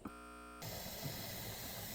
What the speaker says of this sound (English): once it's done venting, you'll start seeing steam come out